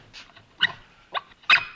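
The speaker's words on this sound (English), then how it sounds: "Sounded like a dog." A dog gives four short, separate barks or yelps in a television sitcom scene, spaced irregularly and heard alone against quiet.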